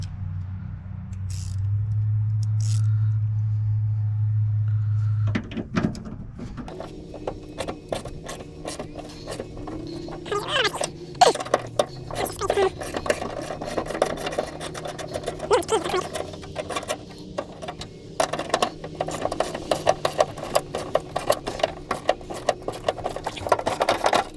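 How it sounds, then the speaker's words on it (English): Ratcheting clicks and metallic ticking from a wrench loosening 10 mm screws on the tailgate handle of a 1998–2011 Ford Ranger pickup, with a steady rapid rhythm close up after a brief lower hum at the start. "So I gotta pop these screws off right here and here."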